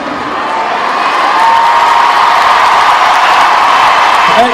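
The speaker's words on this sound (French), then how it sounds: "C'est vous que vous applaudissez, là." A large crowd at the Zénith concert hall applauds and cheers steadily, a dense wash of clapping and shouts that swells slightly and holds loud throughout.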